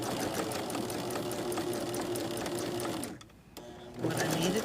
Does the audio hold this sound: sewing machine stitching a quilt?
yes